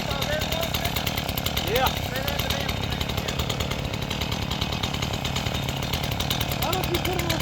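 A STIHL MS 180 chainsaw runs steadily up close at a strong buzzing pitch with slight revving, while a person's voice briefly cuts in over the engine.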